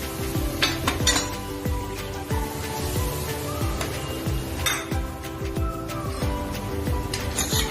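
A metal pot holding a bowl of milk is set down to heat for mango bread pudding, with a run of close clinks and knocks of pot, cookware and utensils in a kitchen, and no one speaking.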